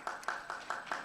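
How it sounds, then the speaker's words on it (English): Sparse clapping in a small gathering of business trainees, a few distinct claps spaced roughly every quarter second, faint and somewhat distant, with no talk. "Give yourself a round of applause."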